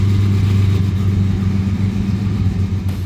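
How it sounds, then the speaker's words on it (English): A 1,000-horsepower all-aluminum engine in an old Plymouth frame idles with a deep, loud exhaust rumble, steady and close, with no talking. "Car sounds amazing."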